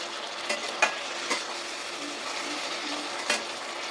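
Bean pathuri mixture stirred gently by hand in a pan on an induction cooktop, with a soft steady sizzle and a few light clinks of a utensil against the pan, close and quiet with no voices.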